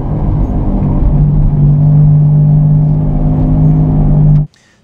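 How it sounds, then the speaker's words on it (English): Car driving fast on the highway with worn wheel bearings or tires, a loud, steady low rumble and groan with a sustained droning hum inside the cabin that cuts off abruptly near the end. "A groaning or a rumbling sound when you're driving on the highway fast, and it actually gets louder the faster you go."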